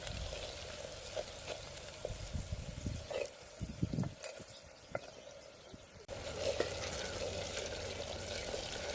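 Tomato frying with spices in a pan for a green fenugreek curry in a village kitchen, a soft steady sizzle with occasional stirring clatter and scrapes, fairly quiet and close.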